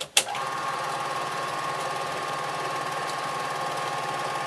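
A regular 8 film projector whirs steadily after a sharp click at the start, its motor and film transport making a constant close mechanical drone with a fine rapid flutter.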